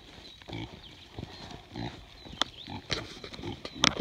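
Low, irregular grunts and snorts from pigs come in short bursts, mixed with a few sharp squeaky sounds and some shuffling nearby.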